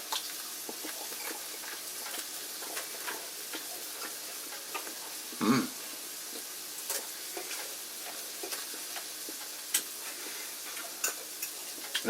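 A Hamburg steak fries in a cast iron pan with a soft, even sizzle and scattered light ticks and pops, one brief louder scrape midway, fairly quiet and close with no talk.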